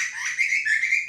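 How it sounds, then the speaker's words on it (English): A bird trapped inside a shed gives a thin, high whistling chirp that wavers continuously for about a second, moderately loud and close, with no voices. "we've got a bird in the shed"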